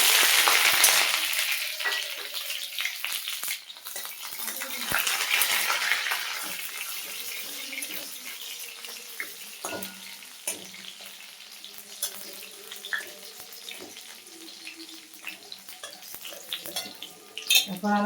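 Crushed garlic and radhuni seeds fry in hot oil. The sizzle is loud at first, then settles into a softer crackle, with occasional clinks and scrapes of stirring close by.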